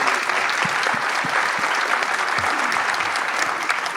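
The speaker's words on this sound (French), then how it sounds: "Je pense qu'on pourrait les applaudir." Lively audience applause at a forestry assembly in the Dordogne, a dense, continuous clapping with some sharper individual claps standing out, sustained throughout without talk.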